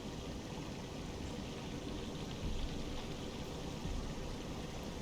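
A waterfall in the online game LOTRO rushes as a steady, broadband wash of falling water, continuous and moderately loud, with no voices over it.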